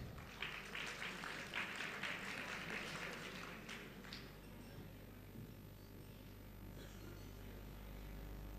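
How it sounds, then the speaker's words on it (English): A conference audience gives a round of applause for a panel session, a faint, distant patter of many hands that swells briefly and then fades away, leaving a low, steady room hum. "Please give a round of applause for Sachin and YB on the stage."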